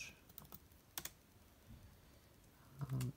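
A name and password typed on a computer keyboard while setting up Windows on a Mac, soft scattered key clicks in short bursts, faint and close in a quiet room.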